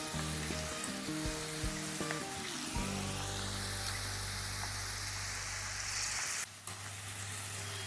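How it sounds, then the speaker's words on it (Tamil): Okra (lady finger) frying in bubbling oil makes a dense, loud, continuous sizzle. A low hum runs underneath, and a brief clunk comes near the end. "இந்த பபுள்ஸ் எல்லாம் அடங்குற வரைக்கும் நல்லா வேகணும்."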